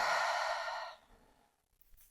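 A single long, breathy exhale, loud and close for about a second, fading into near silence during a breathing exercise.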